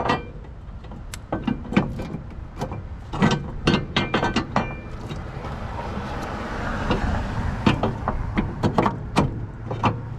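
A ratchet turns the bolts on a front and rear strut bar during installation. Quick metallic clicks come in irregular clusters throughout, close and fairly loud, mixed with clanks and low handling noise.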